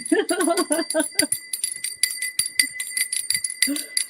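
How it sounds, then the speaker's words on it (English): A handheld bell rung repeatedly on a reaction livestream, bright metallic rings recurring steadily over several seconds, close and loud, with someone talking over the start. "Everybody knows this is our BS bell."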